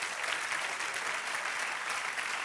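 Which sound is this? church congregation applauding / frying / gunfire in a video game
church congregation applauding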